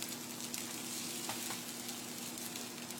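Vegan burger patties fry in olive oil in a non-stick pan, giving a steady, dense sizzle with faint crackles throughout, close and continuous with no voices.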